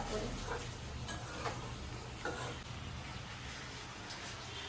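Chicken being stir-fried (kosha) in a pan gives a steady low sizzle, with occasional faint scrapes of a spoon stirring and no talk.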